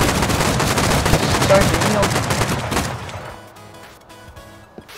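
Rapid automatic gunfire in the video game Rust hammers away in dense, loud bursts for about three seconds, then breaks off into quieter sparse sounds, with a brief spoken remark.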